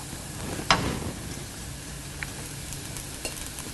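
Scrambled egg and drumstick leaves stir-fried over medium flame for a Kerala egg thoran, giving a steady soft sizzle with one sharp spatula scrape near the start and a few lighter clinks later.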